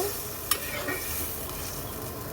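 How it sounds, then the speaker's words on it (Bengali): A vegetable curry with ridge gourd and hilsa fish head is stirred after a little water goes in, giving a soft continuous sizzle with one sharp clink of the spoon near the start. "এর মধ্যে সামান্য পরিমাণে জল ঠিক এতটুকুই এর চেয়ে তার বেশি দেওয়ার কোনো দরকার নেই এরপর মিক্সড করে দেব"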